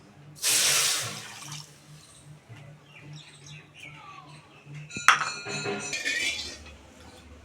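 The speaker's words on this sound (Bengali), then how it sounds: "আর এই একই বাটির 1 বাটি আমি জল দিয়ে দিচ্ছি" Water poured from a bowl onto sugar in a home kitchen for sugar syrup, a short splashing burst followed by faint clinks of a bowl and dishes, with birds chirping in the background.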